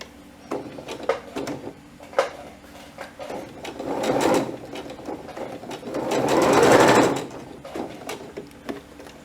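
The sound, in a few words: sewing machine stitching a dart on satin dress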